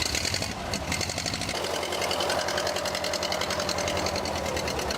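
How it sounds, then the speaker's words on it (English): The original engine of a WW1 or WW2-era vehicle cranks and catches, then settles into a fast, even, rattling idle that chugs on steadily at close range. "any chance of starting it up so we can hear it?"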